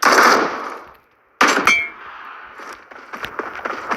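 Sharp, loud gunshots from PUBG Mobile with a metallic clang, then a quieter stretch of scattered clicks and small impact sounds.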